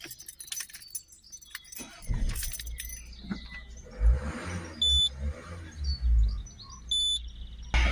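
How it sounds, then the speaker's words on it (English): Keys jingle near the start, then the ignition key is cycled and a Citroen Berlingo 1.6 HDi diesel's warning chimes sound twice over a low idle rumble; the car has a stuck inlet air actuator fault. "Just cycle the key on and off again."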